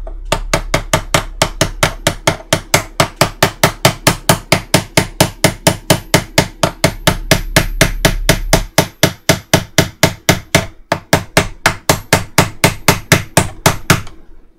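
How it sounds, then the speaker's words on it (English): A metal clamp inside an amplifier near its transformer is knocked over with a long run of steady, evenly spaced sharp metallic taps, loud and close, keeping a regular rhythm throughout with no voices. "I'm just going to shift the clamp over a little bit so we've got some free"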